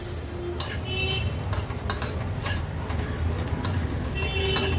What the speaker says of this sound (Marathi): खूप सारी कोथिंबीर ॲड केल्यावर थोडासा असा परतून घेते